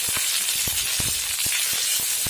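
Panch phoron and spices fry in a little hot oil, giving a steady, close hiss with faint crackles and soft ticks running through it.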